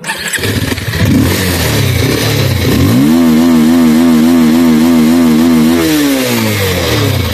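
A motorcycle engine catches and idles, then revs up to a loud, steady high drone that holds for about three seconds before easing back down, heard up close with no talking.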